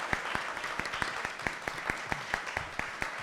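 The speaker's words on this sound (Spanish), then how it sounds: "vamos a despedir y con un aplauso a los disertantes" A fairly small audience at an arbitration and transparency panel event claps for the panel speakers, distinct hand claps standing out at a fairly steady rhythm over a soft wash of further clapping, heard from some distance and moderately quiet.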